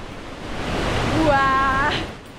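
A very cold river at Termas Geométricas in Pucón rushes past with a broad, steady hiss, close by, while a brief whistling tone rises above the flow near the end.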